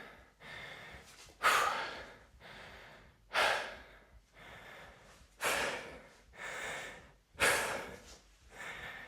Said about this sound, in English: Breathing nice and heavy